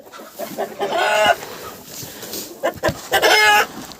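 Chickens cluck and squawk close by in short bursts, with a rooster's call rising among them over faint background noise.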